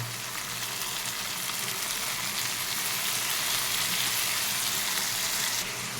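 Half-fried onion with chopped green chilli and sliced tomato sizzles steadily in a hot pan, a dense, even crackle that stays close and loud throughout with no voices.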